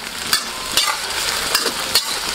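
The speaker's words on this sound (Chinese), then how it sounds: "火锅底料给它炒化" Hot pot seasoning base stir-fried with chili bean paste, dried chilies, Sichuan peppercorns, scallion, ginger and garlic in a wok, loud close sizzling under rhythmic spatula scrapes that come about every half second.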